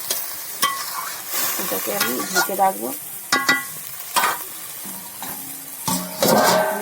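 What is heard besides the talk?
frying flat beans in a pan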